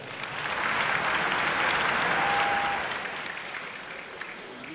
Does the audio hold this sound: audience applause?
yes